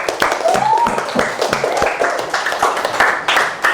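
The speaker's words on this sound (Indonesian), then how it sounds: "Tepuk tangan untuk kelompok 5." Classroom applause for a student group that has just finished presenting, a dense patter of clapping hands filling the room, fairly loud and steady throughout with some voices mixed in.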